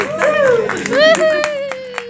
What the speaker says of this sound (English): So feel free to give her a big cheer, guys